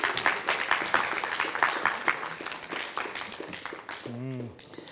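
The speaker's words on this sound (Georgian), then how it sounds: "აპლოდისმენტები მამუკას." A studio audience applauds a quiz contestant, a dense burst of clapping at fairly close range that carries on for about four seconds, after which a voice speaks.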